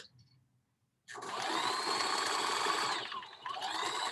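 A sewing machine stitching fabric for costume work runs in a steady, continuous mechanical whir. It starts abruptly after a quiet moment, holds a constant drone close by, pauses briefly, then resumes.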